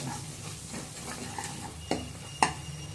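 Spices are stirred into a dry fish curry in a frying pan. A soft, close scraping stir runs over a gentle sizzle, with a couple of sharp utensil clicks against the pan and no voices.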